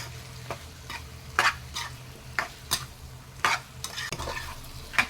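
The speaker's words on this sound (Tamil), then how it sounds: "சிக்கனை ஆட் பண்ணிட்டு நல்லா வதக்கி விட்டுறலாங்க" Chicken pieces sautéing in a gravy pan, with a soft continuous sizzle under repeated scraping strokes of a spoon stirring, roughly one stroke every second, close and moderately loud, no voices.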